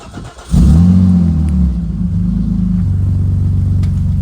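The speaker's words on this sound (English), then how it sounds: "the final drive in the 960 before I pull the engine out and put the T6 in" A Volvo 960 drift car with its naturally aspirated engine fires up and revs loudly, a deep, throaty rumble swelling after a quiet start, then settling into a steady, close idle drone.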